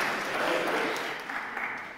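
A small church congregation claps in a steady wash of applause that slowly tapers off over a couple of seconds.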